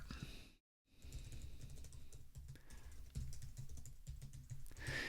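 Fairly quiet keystrokes on a computer keyboard, irregular close tapping after a brief gap of silence, with a faint background hiss and no voices.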